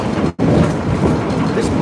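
A Chicago L Green Line train rolls along the north-south main line, a loud, close, steady rumble of wheels on track with a brief cut near the start.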